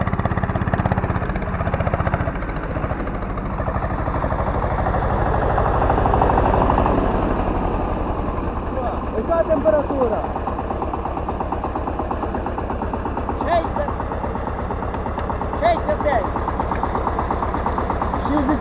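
A tractor engine runs steadily throughout during ploughing, with a low, chugging rumble and rhythmic knocking, fairly close and loud, with faint background noise.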